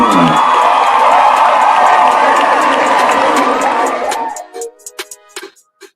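A canned clap track of crowd applause and cheering with whoops plays loud and full as a podcast intro, then cuts off abruptly, leaving a few scattered claps and small noises fading out.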